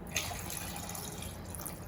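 Water pours into a pot of rice being cooked for tomato rice, a soft continuous splashing and trickling, close and moderately quiet.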